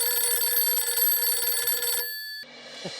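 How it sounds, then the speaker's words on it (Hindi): A phone rings steadily and loudly in a domestic sitcom scene, the electronic tone continuing for about two seconds before cutting off, followed by a brief quieter tail of room noise. "कोई कब से आपको फोन कर रहा है, फोन उठा तो लीजिए"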